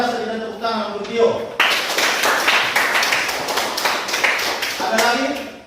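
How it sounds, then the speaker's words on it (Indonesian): Classroom clapping rings out for a student, a dense burst of many hands applauding steadily for about four seconds after a teacher's voice, with speech resuming near the end. "Luar biasa, kita tepuk tangan untuk Gio."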